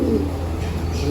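Racing pigeons coo softly at a loft, a low, close, steady murmur of cooing over about a second with no talk.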